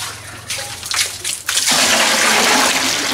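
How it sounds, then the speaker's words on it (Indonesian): About 14 liters of water poured and splashing into a container to mix a plant-based pesticide from chili and shallots, a brief rush at first, then a loud, continuous gushing close by. "tambahkan air sekitar 14 liter"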